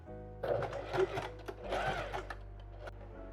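A sewing machine stitches fabric straps for a cottagecore corset dress in two short whirring bursts, quiet and close, with a brief pause between them.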